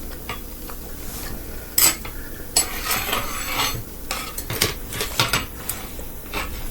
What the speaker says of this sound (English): My spoon sliding.